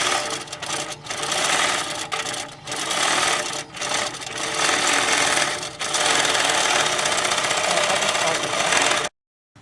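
A longarm quilting machine driven by a Prostitcher Lite program stitches a design on a quilted bag, with loud, continuous rapid needle chatter that wavers slightly before stopping abruptly at the end.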